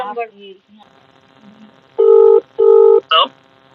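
Two steady dual-tone beeps from a telephone as a number is dialed for a call, each about half a second long, followed by a short higher chirp, with faint room noise and brief talk before them.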